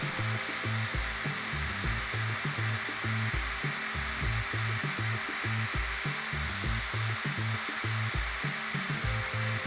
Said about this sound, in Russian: А потом высверливаю отверстие.